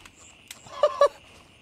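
Birdsong from the game world of Gray Zone Warfare, a couple of short, fairly loud fowl-like calls rising over a quiet ambient background, with a faint earlier chirp.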